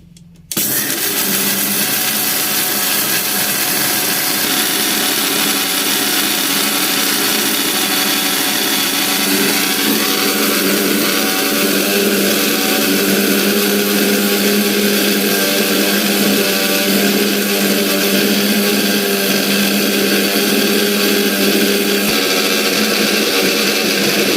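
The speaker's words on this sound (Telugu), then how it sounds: "మెత్తగా గ్రైండ్ చేసుకుంటాను నేను. బరగ్గా కాకుండా బాగా మెత్తగా గ్రైండ్ చేసుకుంటాను." A kitchen mixer grinder runs steadily and loud for the whole stretch, finely grinding masala spices into a smooth powder, with a constant whirring motor drone and no talk.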